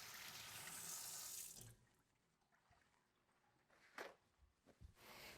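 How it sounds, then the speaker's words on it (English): Hands rinsed under a running kitchen tap, a steady close stream of water that stops, then brief splashes and drips as the faucet turns back on. "I'm going to rinse my hands off again."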